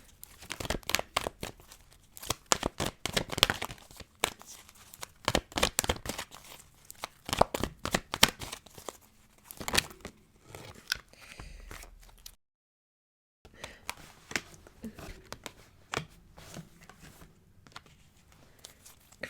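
Tarot cards are shuffled repeatedly in quick, crisp riffling bursts, close up, with a brief silent pause partway through.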